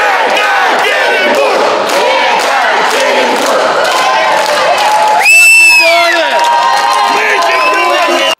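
A dense crowd of fans in an airport arrivals hall roars, chants and whoops for returning amateur night hockey league champions. The sound is loud and continuous, with a high shrill shout rising partway through.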